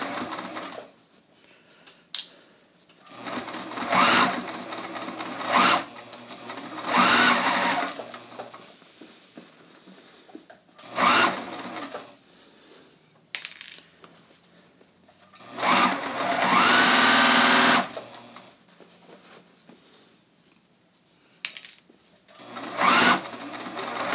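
A sewing machine stitches around a hem line on a pair of jeans with a shortened stitch length. It runs in repeated short and longer bursts separated by quiet pauses and handling noises.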